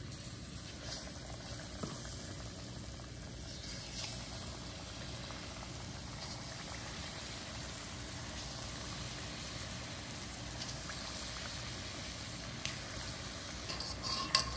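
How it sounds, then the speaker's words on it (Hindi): Batter-coated chicken pieces frying in hot oil for honey garlic chicken, a soft continuous bubbling sizzle that holds even and fairly faint throughout, with a slight rise near the end. "ये चिकन आपने ली हुई थी, इसको एक एक करके टूथपिक से उठाएं,"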